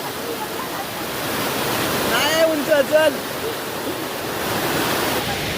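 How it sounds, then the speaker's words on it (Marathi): A stream swollen with floodwater rushes in a steady, loud roar that fills the whole clip, while people talk close by over the noise. "पाणी बघताय ना भरपूर पाणी आलं आहे"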